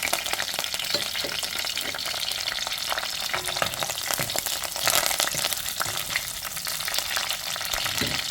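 Fenugreek seeds, curry leaves and green chillies frying in hot oil for a fish curry, with a steady, dense sizzle and crackle that runs close and loud throughout, with no talking.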